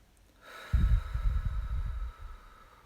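Slow deep breath during a guided relaxation, a soft intake followed by a long, close, audible exhale that lasts over a second, with no talking.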